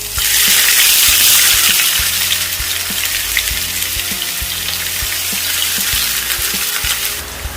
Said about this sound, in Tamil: மீடியம் சைஸ் 3 வெங்காயம் ஸ்லைஸாக வெட்டி எடுத்துக்கிறேன். அதை இப்போ போட்டு ஃப்ரை பண்ணி எடுத்துக்கொள்கிறேன்.